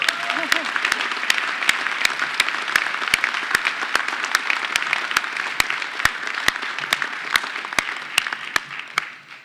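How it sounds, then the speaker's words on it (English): An audience at a city's State of the City address applauds the mayor with sustained clapping, a dense roar punctuated by sharp, evenly spaced claps. It fades slightly toward the end. "Can we just give him another round of applause?"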